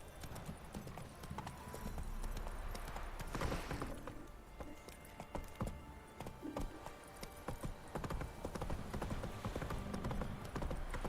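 Horse hooves clip-clop steadily and rhythmically over a constant background, with an occasional faint whinny, in the video game The Witcher 3: Wild Hunt; no one speaks.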